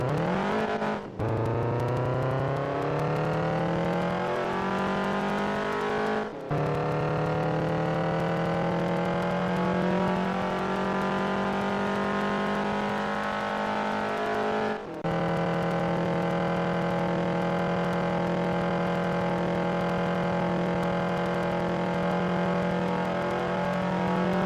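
A car in the mobile racing game Real Racing 3 revs hard and accelerates through its gears, the engine tone climbing steadily with short dips at each shift, loud and continuous with no talking.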